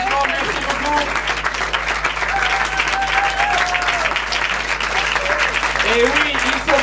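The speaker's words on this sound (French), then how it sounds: "Faites-leur vraiment un tonnerre d'applaudissements" An audience at a Paris improv theatre festival gives the volunteers a warm round of applause, dense continuous clapping with cheers mixed in, while a voice speaks over it.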